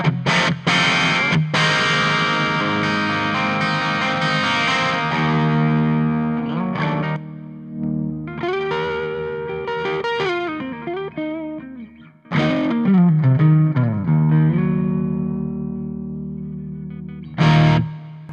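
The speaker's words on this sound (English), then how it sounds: "It's that lovely kind of distortion, but you can hear every single note in the big chords." Electric guitar played through a Victory Lunchbox amp with heavy distortion, ringing full chords and picked note runs that stop abruptly between phrases, loud and close with no talking.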